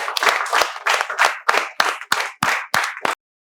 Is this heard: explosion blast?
no